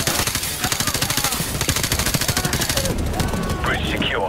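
Rapid automatic gunfire in the video game Modern Warfare, a loud continuous burst of evenly spaced shots with whooshing effects near the end.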